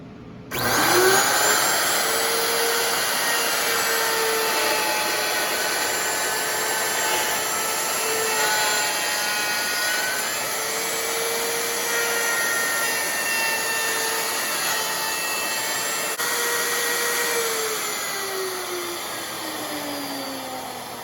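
Power tool cutting a tenon into a ukulele neck held in a jig, a loud continuous whirring drone with a slowly shifting pitch that runs for about twenty seconds.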